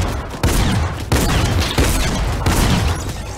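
Rapid bursts of gunfire in Fortnite Season 5 Team Rumble, loud and close, with sharp shots starting at several points and dense, crackling fire between them.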